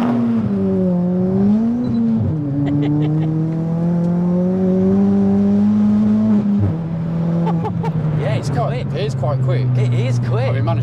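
A tuned Ford Fiesta ST engine drones steadily and shifts pitch as it drives off along country roads, heard from inside the car beneath ongoing conversation.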